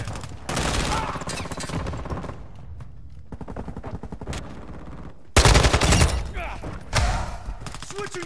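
Gunfire in Call of Duty: Modern Warfare during an objective match, with loud automatic bursts and fusillades that cut in and out across the stretch, plus heavy thumps and a sudden sharp volley near the end.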